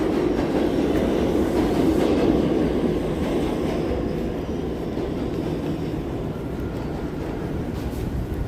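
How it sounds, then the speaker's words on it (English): A New York City subway train passing near Harlem, a loud steady rumble with rhythmic clattering wheels that fades slightly toward the end, with no talking over it. "Trains on here,"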